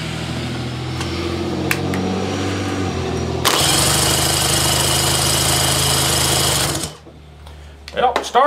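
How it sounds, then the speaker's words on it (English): Electric starter cranking a 1971 Johnson 25 HP outboard motor, a loud, steady whirring burst of about three seconds that cuts off abruptly, with a low mechanical hum and handling noises before and after. "let's see what kind of action we get out of that starter."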